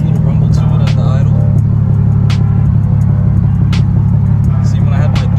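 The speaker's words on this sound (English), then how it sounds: "It has a nice little rumble to it at the idle." A Lexus GS300 with a 2JZ engine idles with a steady, deep rumble through a single-exit exhaust and Megan Racing midpipe, continuous and close, with faint higher clatter on top.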